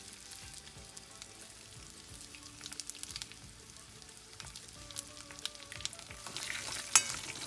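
Spices tempering in hot oil for a cucumber palya, a soft steady sizzle with faint crackles and small pops, quiet and close, growing a little louder toward the end.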